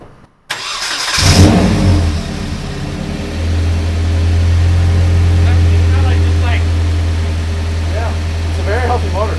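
A car with an RB20 engine swap starts with a sharp crank and settles into a steady, fairly quiet idle with slight rev swells, while people talk close by.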